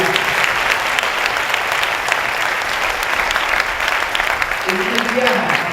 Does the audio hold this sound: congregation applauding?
yes